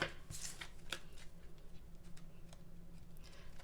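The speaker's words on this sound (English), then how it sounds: "I think a lot of people like watching the shuffling process." Tarot cards riffled and shuffled by hand in short bursts of soft, papery flutter and light taps, close and fairly quiet, with no talking over it.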